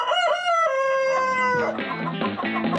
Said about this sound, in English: have a chicken in our house.